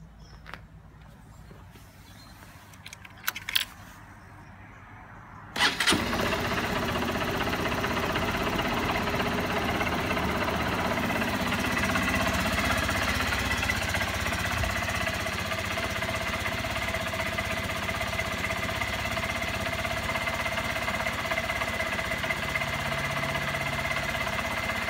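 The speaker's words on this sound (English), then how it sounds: "Let's start up the bike from cold and see what it sounds like." A red and black 2012 Honda CBF 125 motorcycle starts from cold after a few quiet clicks, then settles into a steady, loud, close single-cylinder idle that runs unbroken to the end, with no talking.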